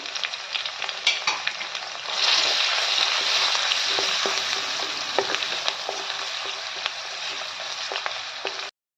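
Whole spices, cloves and cardamom, with turmeric hit hot oil in a pan for dry prawn fry, giving a loud, steady close sizzle that swells after two seconds, with occasional light clicks of stirring, then stops abruptly.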